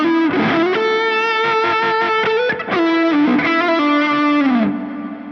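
Distorted electric guitar chords and sustained notes ring out alone through a big plate reverb, loud and close, with a long washing tail as the last chord fades.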